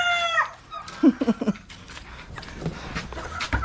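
Backyard chickens and roosters cluck and squawk in short bursts near a farm range area, with a crowing call at the start and scattered clucks continuing throughout.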